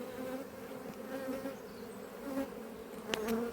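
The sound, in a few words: swarming bees buzzing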